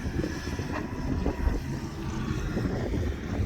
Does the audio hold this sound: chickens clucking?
no